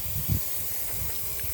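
An aerosol can sprays cleaner around a transmission pan edge on a 1999 Chevy Malibu, a steady close hiss lasting the whole moment, with a faint low bump near the start.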